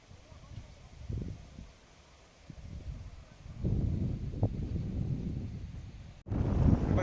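Strong wind blows outdoors by the water on an island, rumbling in low gusts across the microphone and growing louder toward the end, with faint background sounds underneath.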